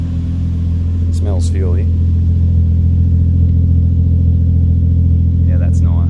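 A 1JZ engine idling after a coil pack change, a loud, steady low rumble with a smooth, even beat and no pops, while a couple of people talk briefly over it.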